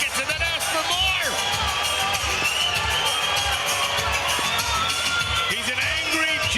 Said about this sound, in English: Well, you hear the pop from the crowd.